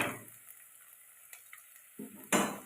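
Onions fry in a pan as a soft, steady sizzle, then a spoon stirs and scrapes a couple of times near the end. Nobody speaks.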